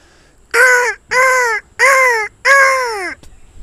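A man mimics the call of a white-necked crow from the market area, producing four loud, raspy caws in a steady, evenly spaced sequence close to the listener.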